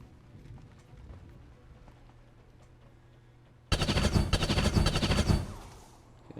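Rapid automatic gunfire in a modded combat video game, a loud sustained burst of about two seconds that erupts abruptly after quieter ambient game noise, then cuts off.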